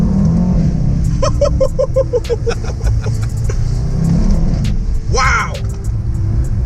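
A Mercedes-AMG E63 S, shifted with paddles in manual mode on a London street, gives a deep rumbling engine note with a rising rev and a rapid series of crackling pops, close and loud under a brief excited exclamation.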